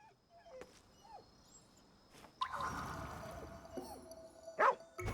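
A frightened puppy in the video game Ghostwire Tokyo whimpers in short, high, wavering cries, with a few brief whines spread across the stretch and a louder burst of game sound near the end.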